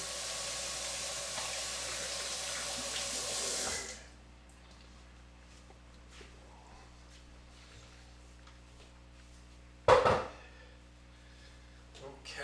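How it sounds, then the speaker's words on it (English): Hands being washed under a running tap, a steady broadband water rush for about four seconds that then stops, followed by a quiet room with a brief knock or clatter. "Let me wash my hands."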